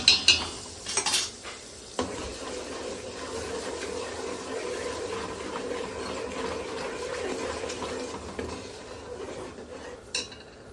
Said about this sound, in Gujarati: આ બાજુ વઘાર કરવાનું ચાલુ છે